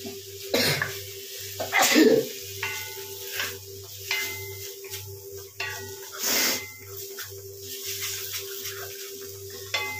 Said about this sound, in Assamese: এয়া বনাই থাকোঁতে আমাৰ হাঁচিয়াই আছোঁ দুইজনে